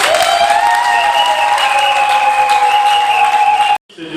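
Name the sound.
congregation applauding for Jesus at a church wedding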